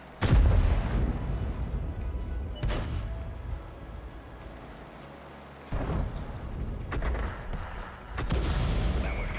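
Tank gunfire in World of Tanks: several heavy booming shots with rumbling decay ring out at irregular intervals, loud against a background of battle noise, with no talk.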